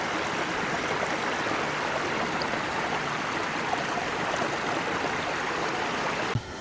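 Rossett Ghyll, a mountain stream close to a footbridge in the fells, rushes steadily with a broad, unbroken watery hiss that holds even throughout, near and loud, with no voices.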